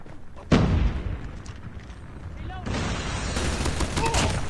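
Gunfire in the Call of Duty Mobile video game: a sharp shot, then bursts of rapid automatic fire and game effects that grow denser toward the end, with voices partly underneath.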